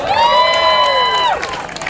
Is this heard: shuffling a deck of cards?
no